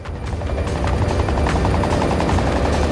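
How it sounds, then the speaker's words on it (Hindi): A helicopter's rotor thumps in a fast, steady rhythm, loud and close, with engine roar underneath and no talking. "हेलीकॉप्टर तुरंत उड़ान भरता है"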